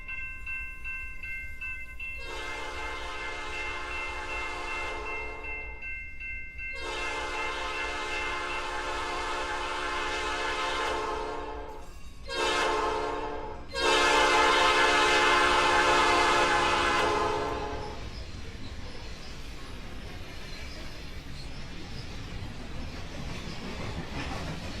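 An ST40 train rolls past in the ProtoRO-Scale railway game, blowing a long multi-tone horn in three blasts over a steady rolling rumble, loud and near, and then fading to the running noise alone.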